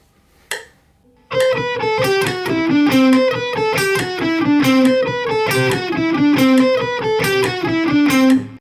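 Electric guitar playing a repeating melodic line in steady sixteenth notes with every fourth note accented, a descending figure cycling roughly every two seconds, clear and upfront with light distortion, no talking.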